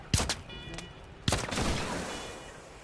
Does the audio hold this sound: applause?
no